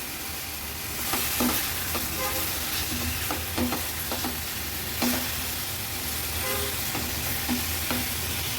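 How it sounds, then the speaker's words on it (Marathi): Pieces of fresh ghol fish being mixed into fried masala paste in a pan, a continuous close sizzle with rhythmic scraping and knocking of the spatula every second or so, no speech. "आता हे गोळीचं मावरं ॲड करूया। व्यवस्थित मिक्स करून घेते।"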